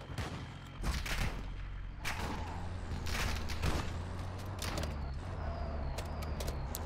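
Bursts of video game gunfire crackle through a multiplayer match in a village map, with several sharp volleys and rapid shots spread unevenly across the clip over a steady background.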